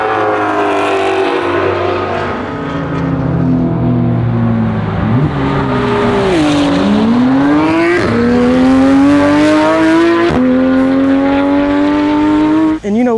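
A Corvette Z06 with track pack drives a racetrack, its loud engine and supercharger-like whine rising and dropping through repeated gear changes and revs, with a voice speaking over it.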